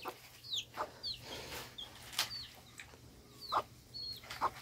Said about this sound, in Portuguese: Olha os pintinhos de tupete do Ícaro